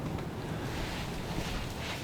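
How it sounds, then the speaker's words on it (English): Steady wind gusts across an open Kansas field, a continuous broadband rush with microphone buffeting and no voices. "It's pretty windy."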